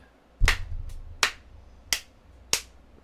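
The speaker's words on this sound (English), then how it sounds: "Slow clap." Four slow, deliberate hand claps spaced well apart, sharp and close, each ringing briefly before the next, with no talk over them.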